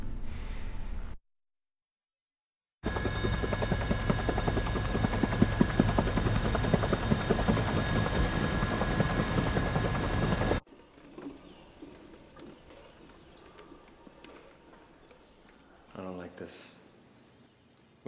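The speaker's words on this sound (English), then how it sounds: "The helicopter." A film helicopter whirs in a loud, steady drone with a fast rotor chop for several seconds, then cuts out. Quieter, muffled background noise follows, and the drone does not return.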